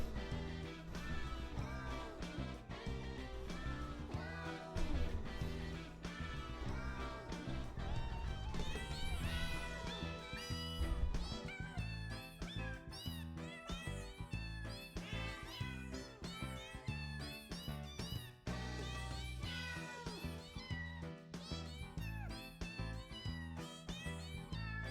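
Meowing cats from the Jingle Cats video game, their calls arranged into a song over dense backing music, with steady, continuous melodic meows throughout.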